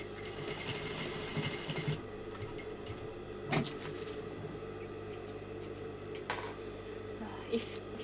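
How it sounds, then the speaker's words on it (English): Electric computerized sewing machine stitching a dress, a rapid mechanical whir for a couple of seconds, then quieter with scattered clicks and taps. "so let me sew down again"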